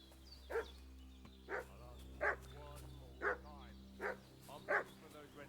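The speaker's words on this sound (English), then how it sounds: "What's that dog making such a fuss about?" In Kingdom Come: Deliverance 2, a dog barks over and over, with about seven evenly spaced barks at moderate distance over a quiet ambient background.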